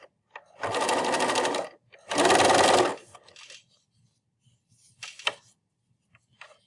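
A sewing machine stitching a cloth face mask runs in two steady bursts of a second or so each, loud and close, then a few brief faint whirs follow with quiet in between.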